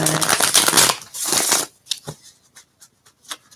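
A deck of cards is riffled twice in quick, dense bursts, then lighter card taps and flicks follow, close and fairly loud.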